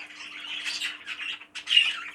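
Caged zebra finches in a breeding cage give a busy run of harsh, close squawks, with a brief pause partway through before a louder burst.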